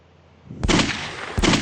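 Gunshots fired at a thief in a Hindi comic audio drama, two sharp, loud bangs about three-quarters of a second apart, standing alone without voices.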